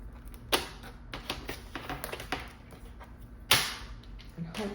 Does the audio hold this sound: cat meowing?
no